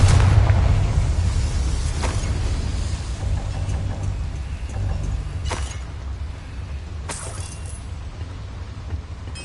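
Confringo blasting spell in the wizarding game Hogwarts Legacy, a heavy booming explosion with a deep rumbling tail, followed by a few sharper crackling bursts over a low ongoing roar.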